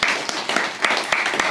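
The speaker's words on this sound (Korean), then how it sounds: "박수로 격려하겠습니다." A church congregation claps together during a Sunday service, a short burst of brisk, uneven hand claps in a hall.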